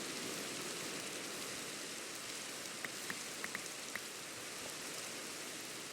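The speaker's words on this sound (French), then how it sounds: "Alors la pluie dans Minecraft, ça a la réputation d'être chiant." Steady rain falling in the game Minecraft, a dense, even hiss of drops that holds at the same level throughout, with a few faint clicks near the end and no talk.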